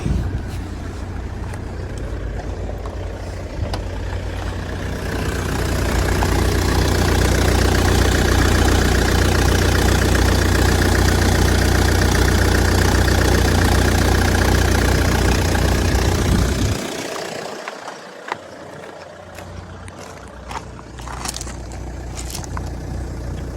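A Volvo C30 engine idles with a steady low rumble. It swells louder for several seconds, then drops back to a quieter, even idle.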